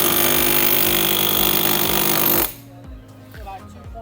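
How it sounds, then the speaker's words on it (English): Milwaukee M18 Fuel Striker hammer chisel drives against a rod with a loud, continuous pounding that stops abruptly partway through, followed by a quieter room with brief clanks. "Next one up is the new M18 Fuel Striker Hammer Chisel."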